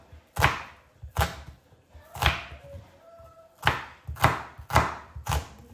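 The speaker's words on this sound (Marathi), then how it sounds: "मी आता पटापट कांदे घेतो आणि लगेचच त्याला कट करून त्याला थोडंसं फ्राय करून घे." A knife chops onions on a board in a home kitchen, six sharp, close thuds at uneven intervals with quiet gaps between them and no talking.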